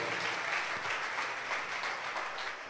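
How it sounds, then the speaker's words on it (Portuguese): A church congregation claps together, a dense and steady round of applause from a roomful of people that fades slightly toward the end, with no clear speech over it. "Aplauda o nome do Senhor mais uma vez"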